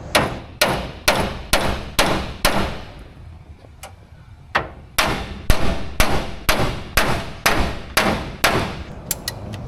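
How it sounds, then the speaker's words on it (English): Mallet blows driving two pipes back together under a 2025 Ford F-250, a steady run of about twenty loud, close knocks in an even rhythm with one brief pause midway. "to try to reattach the 2 pipes together down there, I used a little persuader with a mallet"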